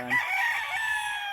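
A rooster at a gamefowl farm gives one loud, close crow that rises and holds before trailing off.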